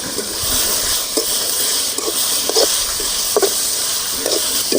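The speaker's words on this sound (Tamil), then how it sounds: "நல்லா எண்ணெயிலேயே பொரிச்சு எடுத்துக்கணும்." Grated pumpkin frying in hot oil in a home kitchen, a steady hiss and sizzle, broken by several light scrapes of a spoon stirring in the pan.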